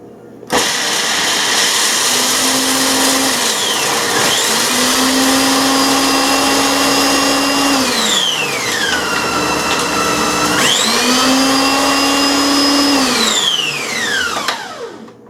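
A blender grinding roasted peanuts into peanut butter whirs loudly in high pulses, its motor pitch rising and sagging through several bursts before switching off.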